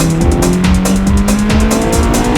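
A race car corners on a circuit, its engine holding a steady loud drone while tires scrub and squeal at the edge of understeer, close and continuous throughout.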